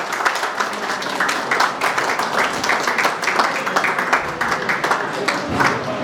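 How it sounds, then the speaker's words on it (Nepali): A church congregation claps steadily and loudly in sustained welcoming applause, the dense patter continuing evenly without a break. "सबैलाई ताली बजाएर उहाँलाई स्वागत"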